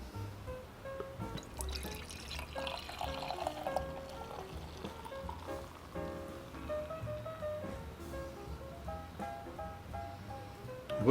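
Left Hand Belgian White nitro beer is poured hard into a glass, a steady splashing, fizzing liquid rush lasting several seconds with faint background noise and no talk.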